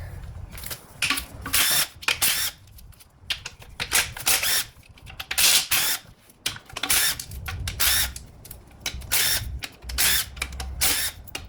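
A power tool removes 10mm bolts from a Toyota Camry ASV50R 2.5L 2AR transmission during disassembly, firing in repeated short, close, rattling bursts with brief pauses between them.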